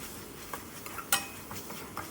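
Leafy greens and crushed garlic are stirred in a pan, giving soft, faint scraping and a few light clicks of a utensil against metal over a short stretch, quiet and close.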